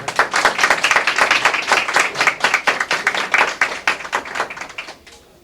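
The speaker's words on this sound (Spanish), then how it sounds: "Un aplauso" Audience applause at a labor orientation expo in Palmares, a run of close, crisp hand claps from a small group that holds steady and then tapers off into quiet near the end.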